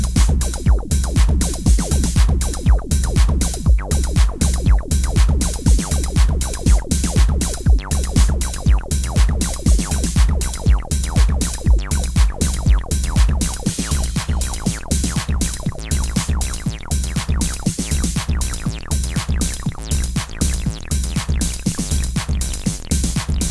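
Section of a dense, driving techno track building into a short snare roll before the drop, with steady loud percussion throughout and no voices.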